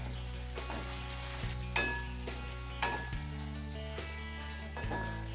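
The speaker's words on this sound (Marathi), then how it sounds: "आता हे आपण चांगलं हलवून घेऊ एकदा" Potato and pea curry stirred around a pan, with repeated clear scrapes and knocks of a spoon against the metal over a steady background tone, alone with no talking.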